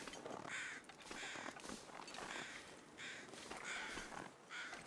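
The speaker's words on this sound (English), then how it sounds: "There's crows flying around" Crows caw repeatedly in the survival video game The Long Dark, a steady run of harsh calls across the whole stretch, fairly loud against a noisy outdoor ambience with no talking.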